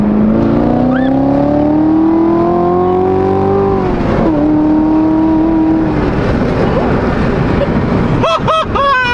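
Chevrolet Corvette C7 accelerating hard uphill, a loud close engine note climbing steadily in pitch for about four seconds, dipping briefly at a shift, then a rougher roar with a few quick revving blips near the end.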